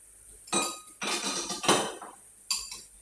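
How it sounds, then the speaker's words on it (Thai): Eggs, two of them, beaten with a utensil in a bowl while making Thai pork toast, giving a few bursts of rapid clinking strokes against the dish, with short pauses between bursts. "ตีไข่นะคะใส่ลงไปสองฟองค่ะ"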